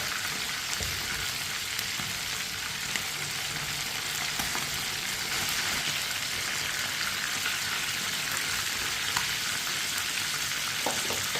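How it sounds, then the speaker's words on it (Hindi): Chicken frying in a pan gives a steady, close hiss and sizzle with light crackles and faint stirring, continuous and unbroken, with no talking. "अब इसे 1-2 मिनट के लिए ऐसे ही पका लेंगे ताकि चिकन हमारा फ्राई हो जाए।"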